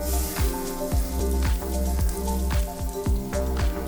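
Steak searing in melted butter, a loud close crackling sizzle with a repeating rhythmic spattering pattern, steady throughout.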